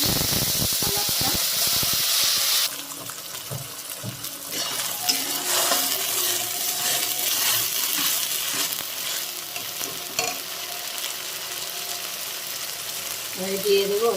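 Bottle gourd peel paste with a pinch of black cumin hits hot mustard oil in a wok and fries with a loud, continuous sizzle and hiss that lasts throughout.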